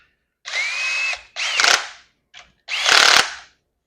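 Power tool snugging down the crankshaft main cap bolts on a small-block Chevy V8 for an S10 swap, heard as three loud close whirring bursts plus one very short blip.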